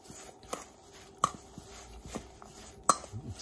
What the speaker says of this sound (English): we're gonna mix this all together till all the ingredients are fully incorporated